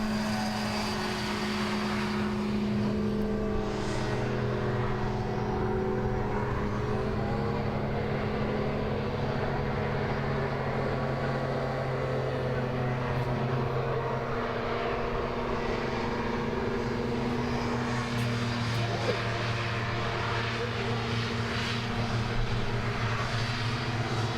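Racing hovercraft at a Gangwarily hovercraft race, engines droning steadily through a chicane and around the course, a sustained loud propeller and engine roar with shifting pitch that holds for the whole stretch.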